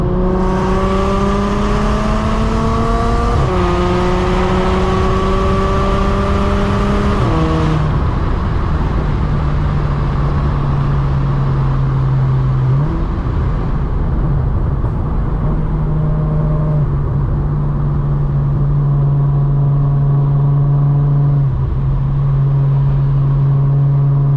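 An Audi S4 B8.5 with a valved exhaust drones loudly and close, rising in pitch through several gear changes before settling into a steady, rumbling exhaust cruise.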